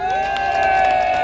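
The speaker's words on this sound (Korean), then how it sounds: "박수로 모시겠습니다" Audience at a conservative church rally near the War Memorial breaks into cheering and crowd noise as a movement leader is introduced, steady and loud throughout, with a sustained tone running underneath.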